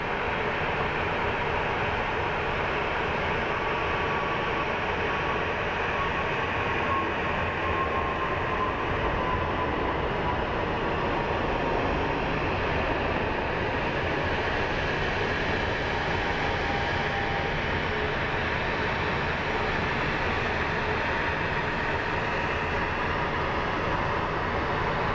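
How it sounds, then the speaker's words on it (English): A Frontier airliner climbs out steeply on takeoff at Phoenix Sky Harbor International Airport, a steady, broad jet roar that holds at a constant level throughout with no voices. "You gotta love Frontier with their steep takeoffs."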